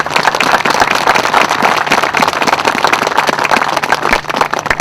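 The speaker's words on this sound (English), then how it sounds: "let's give a round of applause to all the veterans who are here" Applause for veterans at a playground dedication ceremony held outdoors, a dense, continuous crowd clapping that stays loud and steady throughout.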